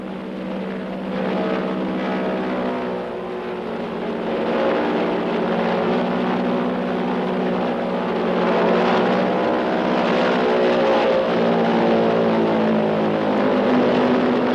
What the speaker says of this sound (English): we hired 2 light planes and flew across from the mainland